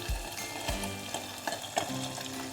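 A spoonful of nigella seeds and a little turmeric sizzling in hot oil, a soft steady crackle with a few low knocks of the spoon against the pan, fairly quiet and close, no voices.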